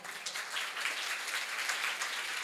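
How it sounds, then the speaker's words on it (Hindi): Audience in a talk session gives a round of applause, a brief, soft, steady patter of many hands clapping at moderate distance, with no talk over it. "बिल्कुल एक बार इनके लिए जोरदार तालियां बजाओ"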